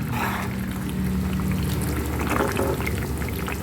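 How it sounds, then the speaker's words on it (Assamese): A pot of vegetable curry with potato, peas and capsicum boiling uncovered, a steady close bubbling and gurgling with no talk. "ধুনীয়াকৈ উতলি গৈছে আমাৰ তৰকাৰীখন"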